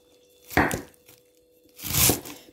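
Two crisp bursts of a knife chopping fresh spinach on a cutting board in a home kitchen, each a short flurry of rapid blade strikes, close and fairly loud, separated by a brief pause with no talking.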